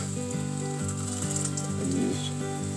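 Onion frying in a pan with seasoning gives a steady, close sizzle that crackles evenly throughout with no talking, while a faint tonal hum runs beneath.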